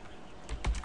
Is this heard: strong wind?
no